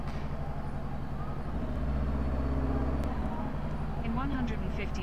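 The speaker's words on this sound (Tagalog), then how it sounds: "Traffic." Road traffic heard from inside a moving vehicle on a street in Vigan, a steady low engine and road rumble with a rising drone partway through, while people talk over it.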